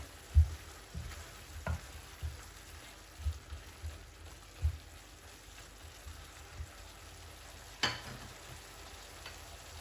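A pot of okra and meat stew with juicy tomatoes is stirred, giving soft, low thuds and scrapes every second or so over a quiet simmering hiss, and one sharper clink comes toward the end.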